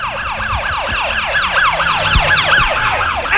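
A loud ambulance siren wails in a rapid, repeating up-and-down sweep, close by with traffic rumbling underneath.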